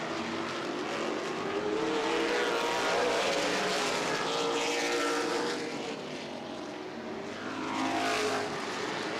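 Late model race cars roar around Anderson Speedway in a CRA Late Model Sportsman race, a steady loud engine drone that swells twice as cars sweep past.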